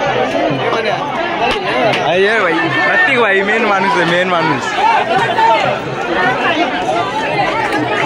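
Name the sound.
crowd at Ganpati immersion ghat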